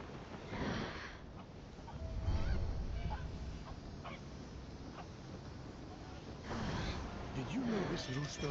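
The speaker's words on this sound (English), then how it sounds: "Helios' annoying bird that screeches every time the sun comes up?" A rooster in the mythological action game Immortals: Fenyx Rising lets out a harsh, honking screech, heard several times at moderate loudness beneath a person talking.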